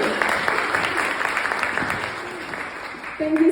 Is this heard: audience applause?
yes